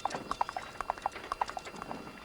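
Horse hooves clip-clop in a quick, steady rhythm at moderate distance, a run of sharp hollow knocks with no one speaking over them.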